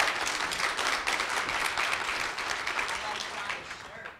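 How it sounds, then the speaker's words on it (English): Audience at a conference keynote applauds two volunteers called up on stage, a full, even round of clapping that fades out at the end. "round of applause for Nick and Shauna."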